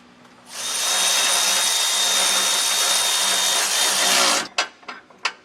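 A power tool runs steadily for about four seconds while tightening down the mounting hardware of SumoSprings Rebel Custom helper springs on a 2013 Fleetwood motorhome frame. A few sharp clanks follow after it stops.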